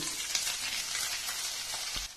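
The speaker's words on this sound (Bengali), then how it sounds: "পেঁয়াজ কুচিটা দিয়ে দিচ্ছি।" Chopped onion hits hot oil in a pan and fries with a loud, continuous close sizzle, brief scraping stirs and a soft thump near the end.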